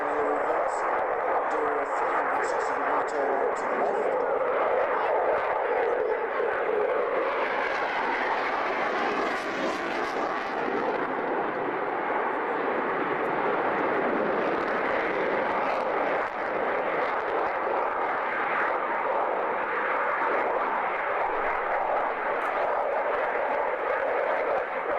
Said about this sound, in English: Bring the aircraft round.